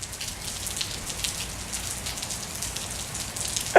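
Steady rain falls on a surface outside, a continuous even hiss of drops with no voices, while a family sits out a rainout during a ball game.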